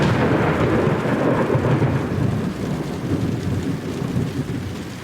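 Thunder rumbling overhead in a storm, a deep continuous roll with rain hissing beneath it, loud and close throughout without letting up.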